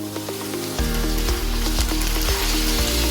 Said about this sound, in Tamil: இதையும் கொஞ்சம் வதக்கிக்கலாம். நல்லா வதக்கிக்கணும்.